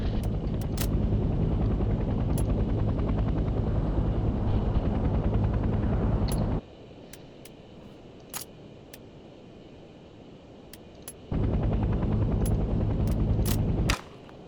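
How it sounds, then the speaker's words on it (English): Loud steady rotor and engine roar of a transport helicopter in the video game Hell Let Loose Vietnam, cutting out to quiet for a few seconds midway, then returning, with sharp clicks scattered throughout. "The transport helicopter is used primarily to transport squads quickly across the battlefield"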